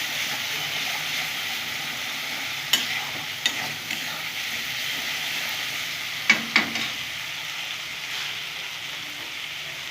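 A paste of sesame, poppy seed and mustard sizzles steadily in a pan for a fish curry. A few sharp clicks of the stirring utensil stand out over the constant frying hiss.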